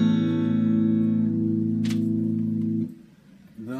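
A single guitar chord strummed once and left to ring, sustaining close and steady for nearly three seconds before it is damped, then a faint new pluck begins.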